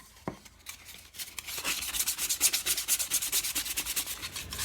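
Sandpaper rubs back and forth over a cut-out wooden key holder, a soft start building into steady, close rhythmic rasping strokes with no voices.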